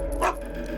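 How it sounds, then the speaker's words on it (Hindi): A single short dog bark, a pet dog reacting indoors in a dubbed Hindi film scene, rises briefly over a steady low background hum. "भौंक क्यों रहे हो?"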